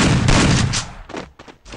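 A grenade goes off in Garena Free Fire: a loud, heavy blast fills the first second, then the rumble breaks up into a few shorter bursts of gunfire and debris.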